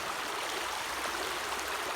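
Steady rushing of the Uborť river in Ukraine, a constant broad hiss with faint gurgles, no voices.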